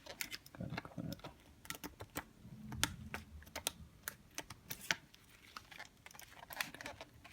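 Headphone band material is cut by hand in soft, irregular clicks and snips, faint and close, with scattered sharp ticks through a quiet room.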